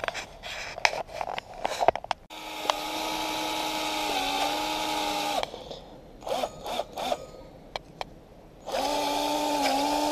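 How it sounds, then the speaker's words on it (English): A power drill bores 25mm deep into a switch plate faceplate, making a hole for a USB adapter while wiring 12 volt garage LED lights. Loud, close whining runs of drilling follow some short starts, with no talking. "We're currently drilling to a depth of 25mm into our switch plate."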